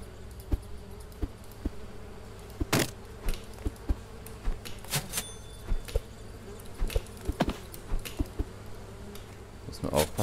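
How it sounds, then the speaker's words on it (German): Bees drone in the Barn Finders Amerykan Dream DLC video game, a low steady buzz running underneath scattered sharp clicks and knocks from the game. "Muss nur aufpassen, dass ich nicht so nah an die Bienen gehe."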